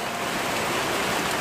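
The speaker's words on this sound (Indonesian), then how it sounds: "Ya hujan." Steady rain pours down outdoors, a dense and even hiss of drops with no pauses and no voices.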